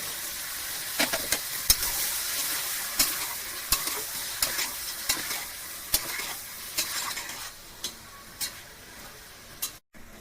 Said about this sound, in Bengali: তারপর মাংসগুলোকে দিয়ে ভালোভাবে নেড়ে নিতে হবে।